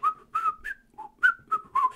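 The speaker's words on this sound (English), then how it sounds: "do a little bit of whistling on the live stream still" Someone whistles a short tune of about eight clear notes, close and distinct, with brief gaps between them.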